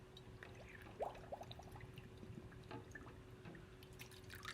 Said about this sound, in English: I'm going to fill this up with water